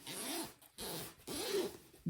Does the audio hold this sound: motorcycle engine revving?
no